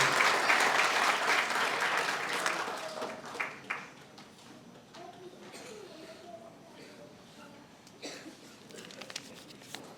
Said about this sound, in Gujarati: ડૉક્ટર કેસી બારોટ સરને આવો તાળીઓથી આપણે વધાવીએ